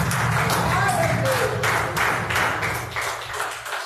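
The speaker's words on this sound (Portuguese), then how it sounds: "Vamos receber o servo do Senhor com palmas para Jesus" A church congregation applauds to welcome a visiting preacher, with rhythmic, fairly close claps in steady unison over a low murmur and background voices.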